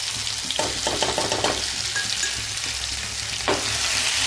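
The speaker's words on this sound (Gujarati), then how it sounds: "તેને ચમચાથી વ્યવસ્થિત હલાવી નાખવાનું છે, જેથી તેલમાં વ્યવસ્થિત ચડી જાય" Chili and garlic paste frying in oil with curry leaves while a spoon stirs it, producing a loud close sizzle with scraping strokes and a burst of spatter near the end.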